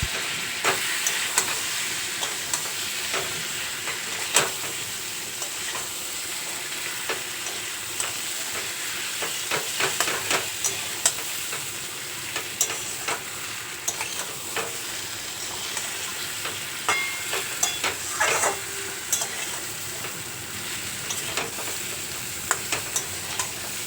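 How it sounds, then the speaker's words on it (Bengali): Pointed gourd, potato and shrimp frying in spice paste in a pan: a continuous close sizzle and hiss with frequent scraping stir strokes throughout. "এবার এর মধ্যে ভেজে রাখা আলু পটল আর চিংড়ি মাছটা দিয়ে খুব ভালো করে কষিয়ে নিতে হবে"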